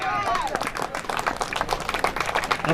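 Spectators at a BPL cricket match applaud a batsman nearing his half-century, with dense, sustained clapping from a nearby crowd and a voice talking over it.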